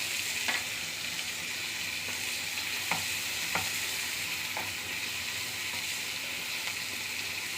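Sliced onions sauté in a pan until brown, giving a steady close sizzle with a few sharp clicks and scrapes of a stirring spoon against the pan, no voices.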